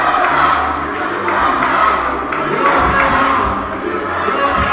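Crowd at a UWC professional wrestling event in Georgetown cheers and shouts loudly in a continuous swell, with chanting voices rising and falling throughout.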